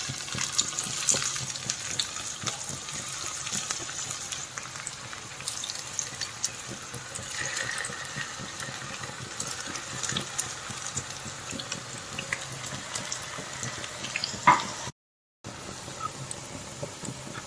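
Bread cutlet pieces frying in hot oil, a steady soft bubbling sizzle throughout with small crackles, close and fairly quiet, with no talking.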